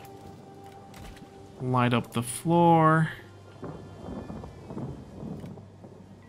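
Rain and thunder in a Total War battle, a steady wash of rainfall with a low rumbling backdrop running beneath a voice that talks throughout.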